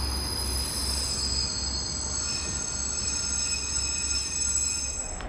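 A train pulls into Kannonji station in Japan, its wheels squealing steadily and loudly against the rails over a continuous low rumble, close by with no talking.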